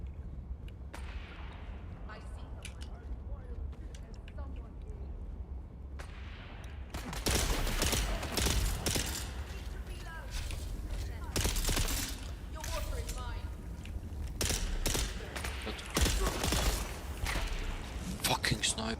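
Gunfire rattles in the video game Dune Awakening, starting faint and sparse, then erupting into loud, repeated heavy shots and bursts after about seven seconds, with someone talking in places.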